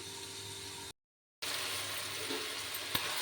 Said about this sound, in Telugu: నేను వెళ్ళి 1/2 కేజీ బియ్యం కడిగి తీసుకువస్తాను